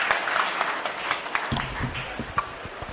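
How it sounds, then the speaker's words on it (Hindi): Audience applause at a Hindi comic poetry gathering welcomes poet Ramanand Yadav to the stage. Dense clapping fills the first half, then thins as a voice murmurs underneath, with a few scattered claps continuing near the end. "जोरदार तालियों से स्वागत रामानंद यादव जी का"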